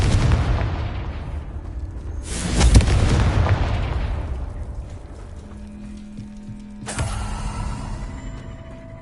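Confringo fire spells burst in the Hogwarts Legacy video game: a loud broadband blast near 2.5 seconds and another sharp burst near 7 seconds, each trailing off through a rumbling, creaking bed of game sound.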